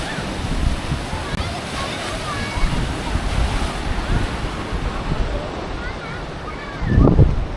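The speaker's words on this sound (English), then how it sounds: "And here we are, we made it to the beach." Surf and steady wind on the beach at Vung Tau, Vietnam, with a continuous wash of waves and gusty wind buffeting the microphone, swelling louder near the end.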